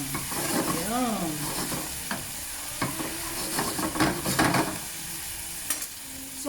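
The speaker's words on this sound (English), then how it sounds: "So as I fry my potatoes, I am going to already break my eggs and scramble them." Potatoes frying with garlic in a pan, a steady close sizzle under scraping and stirring clatters of a utensil against the pan, with occasional sharper knocks.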